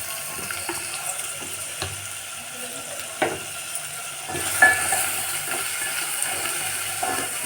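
Chopped onions frying in oil in a pan for a country-style egg chicken curry, giving a soft continuous sizzle with scattered clicks and stirring scrapes, close and fairly quiet with no talk.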